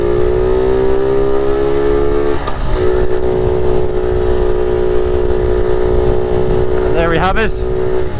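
A 1978 Honda Z50 minitrail motorcycle idles steadily with a loud, close single-cylinder hum, its pitch rising and falling briefly near the end while someone talks over it.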